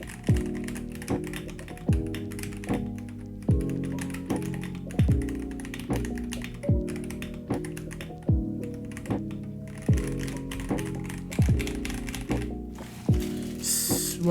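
Steady typing on an Akko PC75B mechanical keyboard with stock Jelly Black switches: close, continuous clacky keystrokes in uneven bursts, with firmer thocks from larger keys, and no voices.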